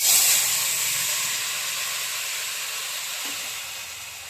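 Boiled bottle gourd hits a hot pan with cumin and gives a steady, broad hiss of sizzling that is loudest at the first moment and then settles to an even, fading steam-like hiss with no talking.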